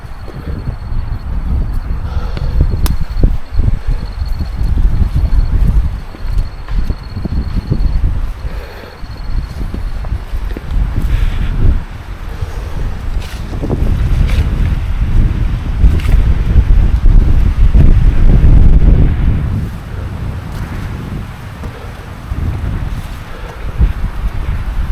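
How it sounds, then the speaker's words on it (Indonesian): Strong gusty wind buffets the microphone on the slopes of Mount Butik at around 1250 metres, a loud, rumbling roar that surges and eases for the whole stretch with no talking. "Anginnya kenceng sekali."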